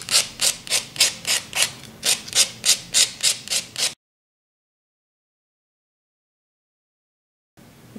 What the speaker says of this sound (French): avec la face qui lime le plus fort de la lime Sephora, je vais limer l'embout en tenant bien